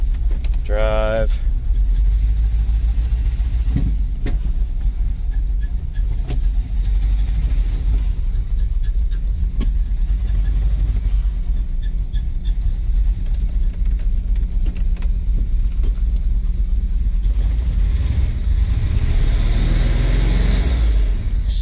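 The engine of a wrecked 1987 GMC 4x4 pickup runs loud and close without a break, a deep steady rumble that roughens and swells in places, as if revved, over the whole stretch.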